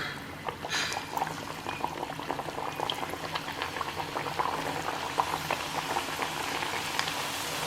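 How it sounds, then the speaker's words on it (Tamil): Thattai rice snacks dropped into hot oil, frying with a steady bubbling, crackling hiss that stays even and close throughout. "எண்ணெய் நல்லா சூடாயிடுச்சு. இப்போ வந்து நம்ம வந்து இதை தட்டையை வந்து போட்டுருவோம்."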